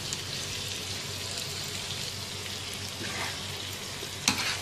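Mutton tawa chaam sizzles and fries in a pan while being stirred and mixed, with a steady close crackle, scraping stir noises and a sharp clink near the end.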